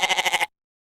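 A goat gives a single short, loud, close bleat with a rapid quavering pulse, cutting off abruptly into silence.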